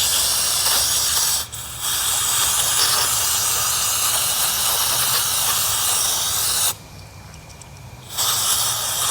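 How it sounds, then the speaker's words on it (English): Aerosol brake cleaner sprays in long, loud, continuous hissing bursts onto trailer wheel bearings, with a brief break early on and a longer pause near the end. "I'm going to use just some brake clean"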